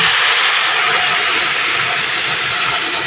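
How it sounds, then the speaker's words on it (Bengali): Milk goes into a pan of fried bottle gourd on a medium gas flame and sets off a loud, steady hissing sizzle that barely eases. "এবার এখানে আমি দুধটা দিয়ে দেবো"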